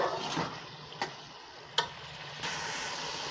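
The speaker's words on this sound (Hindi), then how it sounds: "मज़ीद हम इसको आंच को तेज़ करेंगे और इसको अच्छी तरह से भून लेंगे।" Keema (minced meat) frying in a pan on high heat, a soft continuous sizzle with a few sharp ticks of a utensil against the pan, close and quiet, the sizzle swelling louder near the end.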